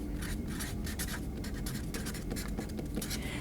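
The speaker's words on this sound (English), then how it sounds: "So let's write that in." A pen or marker writing on a board, quick scratchy strokes in short bursts with brief pauses between them, close and clear over a quiet room.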